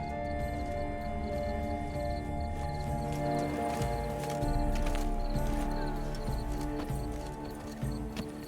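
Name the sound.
horse hooves and whinny in video game The Witcher 3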